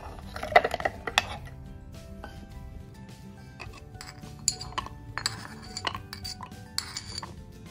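Ingredients including honey going into a blender jar, making scattered light clinks, taps and clatters of glass and utensils at an uneven pace, close and quiet, with no talking.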